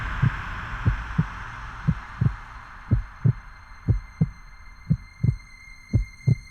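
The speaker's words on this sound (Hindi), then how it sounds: "आपकी दिल की धड़कन हम सिर्फ महसूस ही नहीं बल्कि सुन भी सकते हैं" Heartbeat sound effect: steady, fast, deep thumps in pairs, about two per second, loud and close over a soft hum, with no voices.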